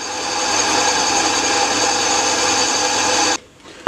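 A drill boring holes in a steel bracket for a Kawasaki Z650/1100 motorcycle project, giving a steady, grinding whir up close that cuts off abruptly near the end.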